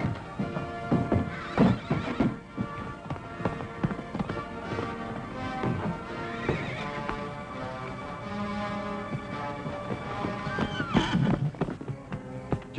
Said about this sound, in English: The white mare is loose!